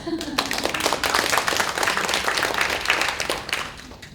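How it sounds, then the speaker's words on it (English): Conference audience at an opening session giving a round of applause, steady broadband clapping from many hands throughout, with a voice briefly audible near the start. "you deserve a round of applause"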